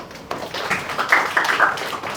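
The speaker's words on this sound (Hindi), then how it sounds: "शाबाश, एक बार ताली बजा दो यार।" Students in a classroom give a short burst of clapping, a quick patter of hand claps that rises and then dies away within about a second.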